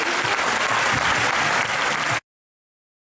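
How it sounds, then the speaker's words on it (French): Loud, dense crowd applause at a French sports award ceremony, sustained close clapping that cuts off abruptly into silence after about two seconds. "Les applaudissements à nouveau."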